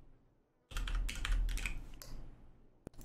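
Rapid typing on a computer keyboard while a report is written, close and fairly quiet, with a flurry of clustered key clicks after a short silence and a final isolated tap.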